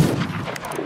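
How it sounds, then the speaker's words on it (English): A ship's cannon in the pirate video game Sea of Thieves fires with a brief, loud booming blast that rumbles and fades quickly. "You can cannon him too at this point."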